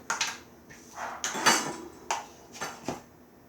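Clumps of baking powder being smashed in a bowl, a series of sharp metallic clinks and taps of utensil against the dish, irregularly spaced and close up.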